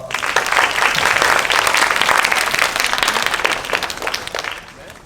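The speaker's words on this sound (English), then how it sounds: "Please welcome Team Synergy with a big round of applause." An audience applauds a student team being welcomed to the stage at a high school's international academic forum, with dense, steady clapping that holds for several seconds before thinning toward the end.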